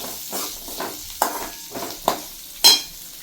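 Tomatoes being sautéed in a pan for sambar, with repeated stirring scrapes over a soft sizzle, roughly every half second, close and without talking.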